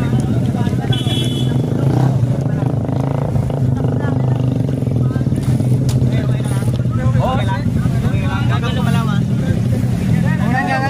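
Busy street traffic with continuous engine rumble from passing cars and motorcycles, loud and close, with people talking over it throughout.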